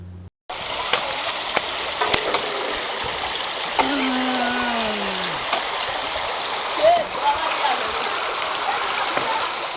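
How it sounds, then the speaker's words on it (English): River floodwater in Lubin rushes through a village at night, a loud, constant broadband roar of churning, splashing water that fills the whole stretch without letup. "that water came flooding in through the entire area"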